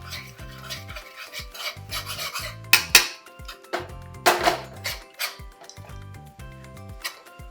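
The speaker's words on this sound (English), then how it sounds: "I'm going to add the roti in there, and we're gonna give it a mix" Kottu roti, shredded flatbread, is tossed and mixed in a pan with repeated rasping scrapes, punctuated by a couple of sharper metallic clacks. The strokes come in an irregular rhythm at close range over a faint tonal background, with no talking.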